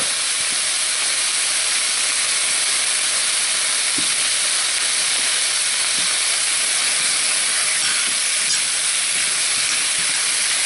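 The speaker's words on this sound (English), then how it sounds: "Stir fry. Oh, I can smell that garlic. Keep it on hot. You want to stir fry it." Garlic and vegetables stir-fry in a very hot pan, giving a loud, steady, unbroken sizzle and hiss that fills the whole stretch without pause and with no talk over it.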